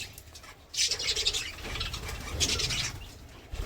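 Birds in a morning yard with clay pots for nesting, where they sit on eggs and feed their young, give scattered chirps and squawks amid rustling and pattering movement, moderately close with no talk.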